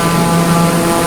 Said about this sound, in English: And this is a beautiful plane.